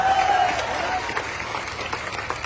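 Audience applause at a public gathering in Madhabpur, a burst of clapping from a crowd that is loudest at the start and then continues more evenly at a moderate level.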